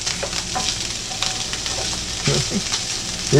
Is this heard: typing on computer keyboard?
no